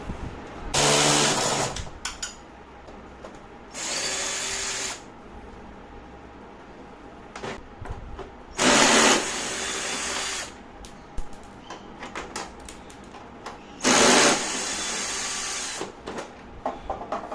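A cordless drill whirs in four separate bursts of a few seconds each, removing a bolt with a size 12 fitting, with clicks and handling noises between them.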